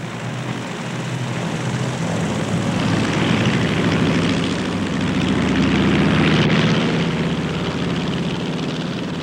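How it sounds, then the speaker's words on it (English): Japanese propeller warplanes roar on aircraft carrier decks as engines rev up for takeoff, a loud, continuous droning rumble that swells slightly and then holds steady throughout, with no voices. "Japanese warplanes were revving up for takeoffs from the decks of carriers."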